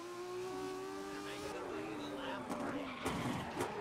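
Race cars in the Grid 2019 racing game roar past with high engine whine and tyre skids, steady and fairly loud, while a voice talks over the driving.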